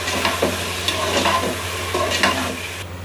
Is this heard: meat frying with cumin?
yes